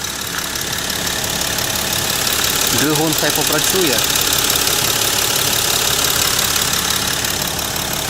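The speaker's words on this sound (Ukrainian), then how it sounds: "Працює для дизеляки рівно, дуже рівно." An Audi Q7 diesel engine idles steadily with a clattery, knocking rumble, while someone speaks briefly over it.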